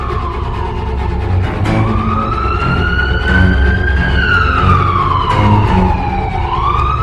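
A police car siren wails in a long rising and falling sweep over steady road traffic noise, loud and close for the full stretch without any voices, the pitch gliding up, holding, then dipping before climbing again.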